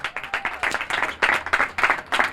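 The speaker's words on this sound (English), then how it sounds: "let's give our big man one more round of applause" A crowd at a city clean-up event gives a short burst of applause, several people clapping in uneven bursts with faint voices mixed in.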